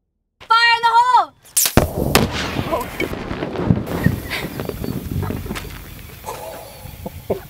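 Ignited nail polish vapour goes off in a sudden loud bang right after a shouted warning, followed by several seconds of rumbling, crackling aftermath and scattered thumps as it dies away.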